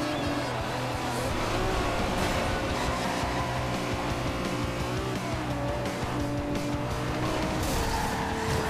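A Lamborghini Countach supercar racing in the video game Forza Horizon 2, its engine roaring loudly and continuously through gear changes, with tires squealing throughout.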